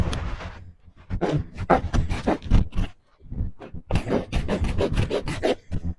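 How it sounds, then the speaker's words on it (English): A farrier's rasp files a BLM burro's hoof in rough bursts of rhythmic scraping strokes with brief pauses between them, close and fairly loud. "Now we'll go for the rasp."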